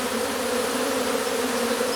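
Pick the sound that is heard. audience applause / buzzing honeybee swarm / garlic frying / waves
buzzing honeybee swarm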